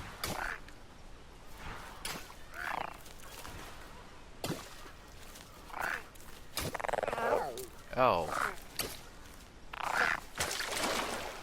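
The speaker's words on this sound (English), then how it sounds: "That is a giant frog." A giant frog in The Unfinished Swan video game gives several deep, irregular croaks among soft game ambience, with a person talking intermittently over them.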